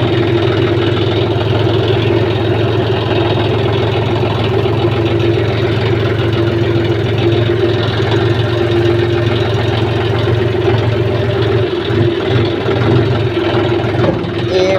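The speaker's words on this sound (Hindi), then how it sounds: "तो गाइस चलते हैं हम ट्रैक्टर बाग में लेके चलते हैं ट्रैक्टर," A tractor's engine idles loud and close with a steady low drone and a knocking pulse. It runs without pause for about fifteen seconds while a person talks over it.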